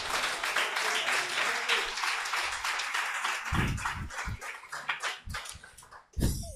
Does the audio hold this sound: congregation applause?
yes